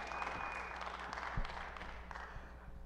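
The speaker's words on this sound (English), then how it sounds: "Round of applause." Audience applause at a live Ignite DFW presentation evening, a steady wash of clapping hands across a crowd that continues evenly throughout, with no voices over it.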